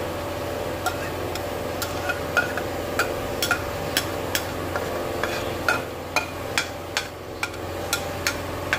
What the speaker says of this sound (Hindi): अब हम इसमें ये राइस डालेंगे।